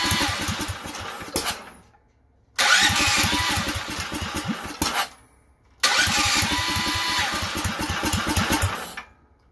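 A DuroMax 440cc engine on full choke is pulled over three times in succession. Each attempt makes a loud, close, chugging run of a few seconds before dropping to silence.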